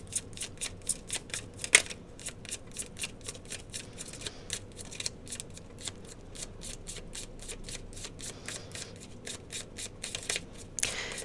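An angel oracle card deck being shuffled by hand, a close, quiet series of rapid papery riffles and flicks repeating in bursts with brief pauses, no talking.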